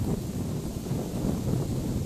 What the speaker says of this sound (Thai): ดูลมแรงมากเลยนะคะ